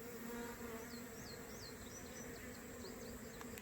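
Robbing bees buzz steadily around the hole entrance of a hive box with no landing board, a dense close insect drone with individual bees darting past, no voices.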